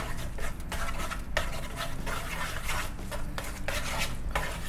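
Mentaiko ramen ingredients, including egg, get stirred in a pan, with a steady scrape and clink of utensil against metal, close and moderately quiet, with rhythmic strokes and brief pauses.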